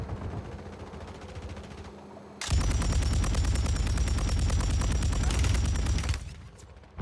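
Rapid bursts of close automatic gunfire from a Call of Duty Warzone match, shooting through walls, a dense sustained volley after a quieter stretch of distant fire, then cutting off sharply.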